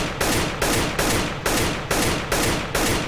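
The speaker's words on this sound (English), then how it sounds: "That's called strafe shooting." Rapid, evenly spaced CS:GO rifle gunfire while strafe shooting, seven loud cracking shots in a steady rhythm, each with a short tail, and no voices.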